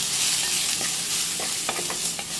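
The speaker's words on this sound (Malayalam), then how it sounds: "ഈ നമ്മൾ ചതച്ച് വെച്ചിരിക്കുന്ന ചെറിയ ഉള്ളിയും ഇഞ്ചിയും വെളുത്തുള്ളിയൊക്കെ ഉണ്ടല്ലോ അത് ഇതിലേക്ക് ഇട്ട് കൊടുത്തു നല്ലതുപോലെ ഒന്ന് ഇളക്കി കൊടുക്കുന്നു" Crushed shallots, ginger and garlic fry in a pan while being stirred, a dense continuous sizzle with a few soft spoon scrapes near the end, close and with no talk.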